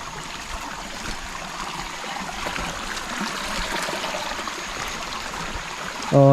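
Running water in a stream in upcountry Ratnapura, a steady soft rush and trickle heard nearby at moderate level, with a brief louder clunk right at the end and no talking.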